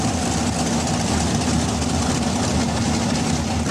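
A modified pulling tractor engine at a 1989 NTPA tractor pull in Hildreth, Nebraska idles with a steady, loud, low rumble and dense mechanical noise, without pauses.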